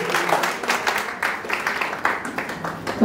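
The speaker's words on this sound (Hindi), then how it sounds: "चलो ताली तो बजाए अपने लिए।" An audience at a Brahma Kumaris wellness program held at a pathology lab claps for themselves in a steady round of applause, fairly close and unbroken, with faint voices mixed in.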